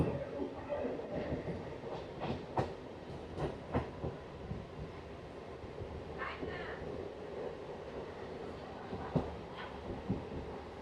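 A MEMU passenger train between Katwa and Ahmadpur rumbles steadily along the rails, with a continuous low roar and occasional sharp clacks and squeals standing out from the din.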